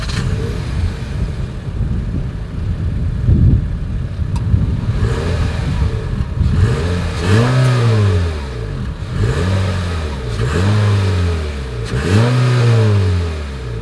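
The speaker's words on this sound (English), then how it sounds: "As always, here is that exhaust clip." Exhaust of a 2020 Honda HR-V revved close by: a steady idle first, then three rising and falling revs in a row, each climbing sharply and dropping back to idle.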